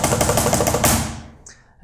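A fast corpse blast beat on a drum kit, in death-metal style, with dense rapid hits for about a second before ringing cymbals and drums decay into near silence.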